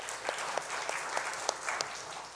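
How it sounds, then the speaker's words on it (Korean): A church congregation at a Sunday worship service gives a short burst of applause for the performers, the hand claps quick and evenly spread, moderately faint and heard from a distance, with no talking over it. "박수 한번 보내겠습니다."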